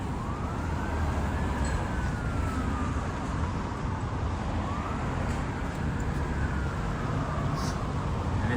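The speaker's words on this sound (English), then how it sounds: "I hear another siren coming, but I don't think it's coming this way." A distant emergency siren wails in slow rising and falling sweeps over steady Toronto street traffic noise on an evening city walk, staying faint and far throughout without any talk.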